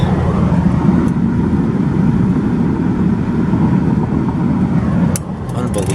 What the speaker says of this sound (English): Driving through a forest fire here.